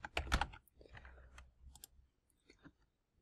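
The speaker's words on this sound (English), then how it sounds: "you need to type in your text" Fingers tap out text on a computer keyboard, a quick cluster of crisp clicks followed by sparser, softer keystrokes that trail off, close and quiet with no voice over them.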